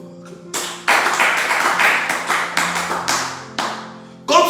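A church congregation at a French worship service breaks into loud applause in uneven waves, with sharp claps swelling and fading several times and a final burst at the end.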